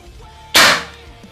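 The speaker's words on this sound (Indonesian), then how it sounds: "Lanjut tembakan yang kedua." A single sharp shot from a Monel OD 27/60 air rifle, a sudden loud crack with a short fading tail, heard alone.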